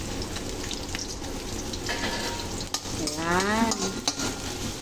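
Onion sautéing in a frying pan for a Filipino ginisa dish, a steady close sizzle with stirring scrapes throughout, while someone talks briefly over it.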